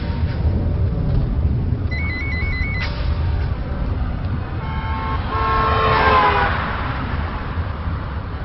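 A car drives along a road with a steady low rumble, while horn toots sound at about two seconds and again later amid passing traffic.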